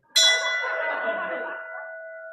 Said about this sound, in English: I just wanted to ring the bell for our Teresa